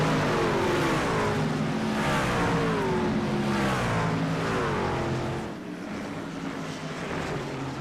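Race trucks at the Glen, engines hanging in third gear through the carousel, a continuous roaring drone of several motors with rising and falling pitch, steady and loud before easing slightly.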